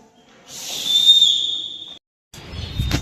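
A person blows one long, steady, high whistle lasting over a second, followed after a brief pause by a shorter faint whistle.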